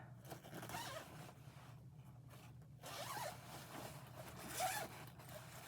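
A pink zipper on a pink, suitcase-style case is pulled open in a few short rasping runs, quiet and close, with no voices.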